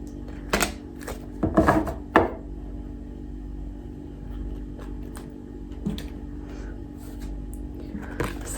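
A large tarot deck being shuffled, with a few short papery riffles and taps of cards near the listener, spread across a quiet room with pauses between them.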